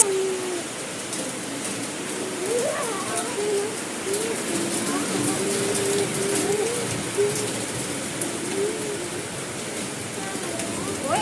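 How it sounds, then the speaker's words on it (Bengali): Steady, dense rain pours down near a house gate during a summer thunderstorm, a continuous close hiss with a pigeon cooing intermittently in the background. "কার বাড়ির ওখানে বৃষ্টি হয়েছে আজকে"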